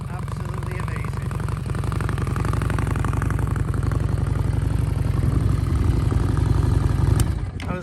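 Harley-Davidson Street Rod 750 fitted with a Vance & Hines Competition exhaust, a deep, loud, steady throbbing engine close by that builds slightly, with a voice talking over it.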